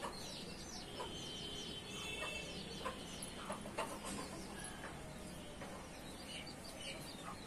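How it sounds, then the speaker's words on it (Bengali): Chickens kept in coops on a house rooftop cluck softly and intermittently, faint and somewhat distant against a low, steady outdoor background. "এখানে মুরগি রাখে। এখানে আরো মুরগি আছে।"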